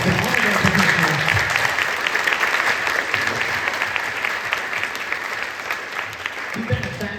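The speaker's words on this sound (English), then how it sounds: "can we give a round of applause to all of our percussionists?" An audience at a high school percussion concert applauds with a dense, sustained wash of clapping that starts loud and slowly thins toward the end, with a few voices underneath.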